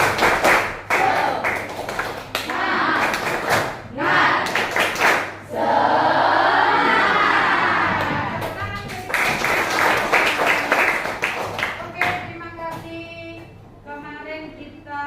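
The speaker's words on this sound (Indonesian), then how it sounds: "kita harus tepuk semangat biar semangat belajarnya" Class of students doing a rhythmic spirit clap before a lesson, sharp loud claps in patterned bursts, mixed with children's chanting voices and a short stretch of cheering in the middle.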